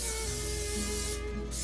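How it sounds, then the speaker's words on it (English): Cooking spray hisses onto a plate in a home kitchen, one continuous close airy spray lasting over a second and then cutting off briefly near the end. "now you need to take a plate, spray it"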